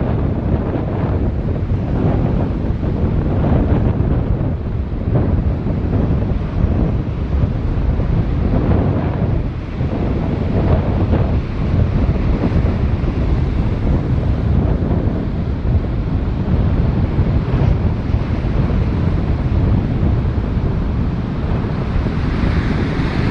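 Ocean surf crashes and wind roars at a boat launch where boats go out through the waves, a loud, dense rush with rolling swells and constant microphone buffeting over the full stretch, no voices.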